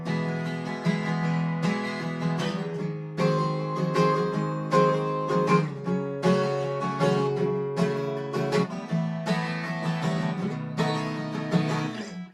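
Acoustic-style guitar strumming in a steady rhythm with accented strokes on beats two and four, chords ringing clearly and alone at close range.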